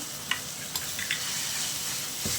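Onion sautés with a little salt in a pan, crackling in an even, close sizzle with a few light spatula scrapes and clicks, and no voices.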